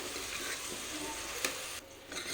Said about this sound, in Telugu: ఇలా ఈ ముక్కలన్నీ వేసుకున్న తర్వాత ఒకసారి బాగా కలుపుకోవాలి